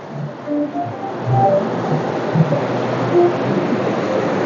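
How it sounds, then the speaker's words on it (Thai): Water flowing in the garden of a garden-style restaurant, a soft continuous wash of moderate loudness with no speech over it. "นั่งดื่มตรงนี้เนี่ยโอ้โห ดีมาก ๆ ฟังเสียงน้ำไหล"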